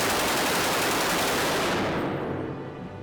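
A machine gun fires at a target on a range, a loud continuous roaring burst of rapid shots that fills the clip and begins to tail off near the end.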